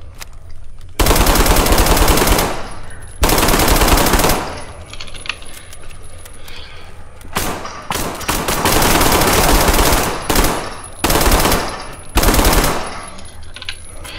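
Gunfire in the video game SCP5K, loud rapid automatic bursts of several seconds each separated by short quieter gaps, close and dominant with no talking.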